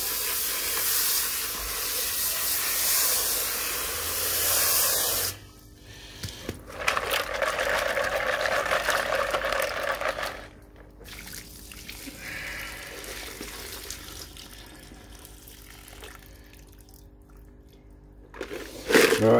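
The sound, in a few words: rinsing sand off CPU gold recovery material with water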